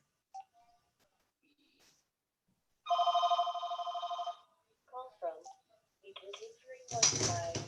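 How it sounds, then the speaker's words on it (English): A telephone rings in a short electronic burst amid quiet room sounds, followed by a few soft voices and a brief clatter. "If I can get my phone to stop ringing."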